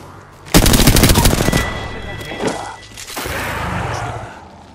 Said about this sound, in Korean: 사격 중이다